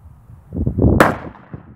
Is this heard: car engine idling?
no